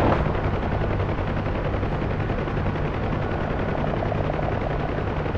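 A UH-1H Huey helicopter in the DCS World flight simulator, a loud, constant close rotor and turbine roar with a rhythmic thudding beat, unbroken for the whole stretch and without talk.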